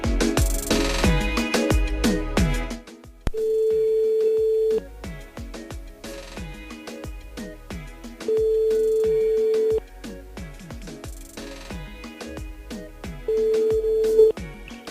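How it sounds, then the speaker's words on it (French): A landline phone line heard during a call-in radio show: a steady ringback tone sounds in three long bursts, separated by gaps filled with loud broadcast music, each tone clear and even. "On appelle Sandrine du côté du sud."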